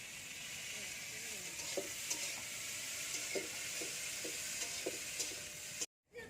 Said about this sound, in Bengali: বরবটিটা ভেজে নিচ্ছে